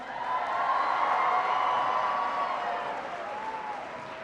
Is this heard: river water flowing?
no